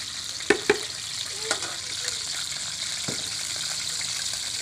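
Ghee in a hot pan on a village-style Punjabi stove, a steady quiet sizzle broken by a few sharp clinks and taps of a utensil early on.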